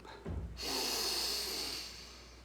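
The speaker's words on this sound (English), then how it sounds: "just take a deep breath in" A person takes one deep breath in, starting with a short nasal sniff and then a long, airy inhalation up close that fades away gently.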